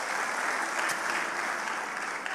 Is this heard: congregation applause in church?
yes